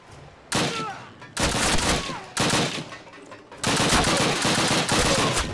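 Bursts of automatic gunfire from a Call of Duty match on PC, several loud rapid volleys separated by short pauses, dense and close with no talk over them.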